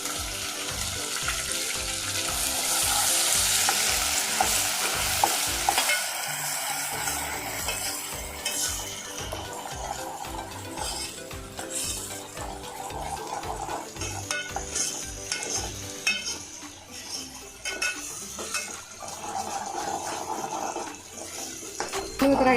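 Ginger and garlic sizzle steadily as they fry in a pot for mutton curry, with repeated stirring scrapes running through the loud, continuous frying and no one talking.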